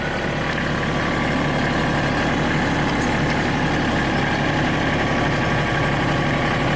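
Kubota tractor engine idling at close range, a steady, even diesel rumble with no rises or dips in speed throughout.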